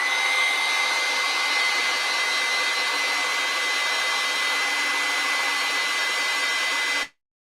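A hair dryer blows steadily on a watercolor painting of fall leaves, a loud, constant whooshing roar lasting about seven seconds before cutting off abruptly.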